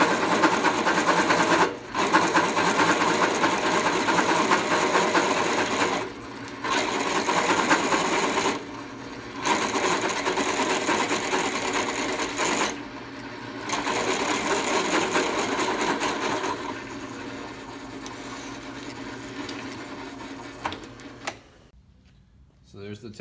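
A motor-driven machine cuts metal with chatter while parts are made for a homemade overhead hoist. It produces a steady, loud buzzing grind in long runs broken by short pauses, with a voice talking over it.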